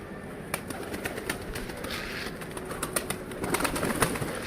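A white pigeon coos softly nearby over a steady outdoor hum, with a few brief flutters and scratchy movements.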